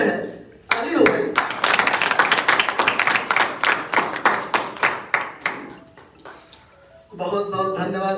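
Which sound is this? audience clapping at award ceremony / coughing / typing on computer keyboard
audience clapping at award ceremony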